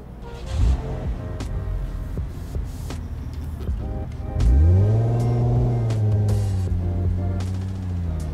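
A Wendover car in BeamNG.drive cranks and starts with a loud low burst, then revs and settles into a rising and falling idle, close and alone after a few faint clicks.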